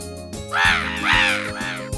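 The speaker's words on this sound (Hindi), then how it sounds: "लेकिन ये कौवे लोग इतना शोर क्यों करते हैं?" Cartoon crows caw three times in a row, each a loud, harsh, drawn-out call with short gaps between, over a low background of music.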